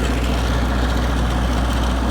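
An MEP803A 10 kW military diesel generator running on heating oil, a steady close, loud engine drone with a low even hum and no breaks.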